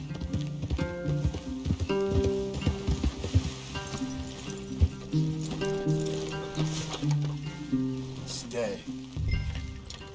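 Horses in Red Dead Redemption 2 clip-clop steadily over the ground, their hoofbeats close and rhythmic beneath sustained tonal sound and voices, ending with a low thump.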